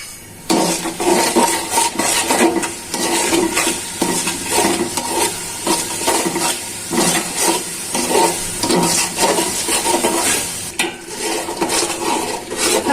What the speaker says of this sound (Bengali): নেড়ে চেড়ে মশলাটা ভালো করে কষিয়ে নিই